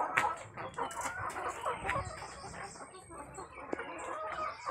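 Chickens cluck and chatter on a chicken farm, several birds close by in overlapping, uneven bursts against a busy outdoor background.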